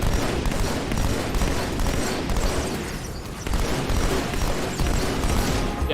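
Halo firefight with dual plasma rifles and needlers, a loud, continuous barrage of rapid energy-weapon fire and impacts with little let-up.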